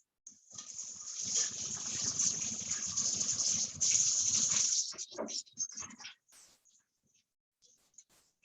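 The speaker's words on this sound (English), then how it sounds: "Again, I need to rinse my hands." Water from a tap runs loudly and steadily while hands are rinsed beneath it for about five seconds, then it stops, leaving a few faint splashes and drips.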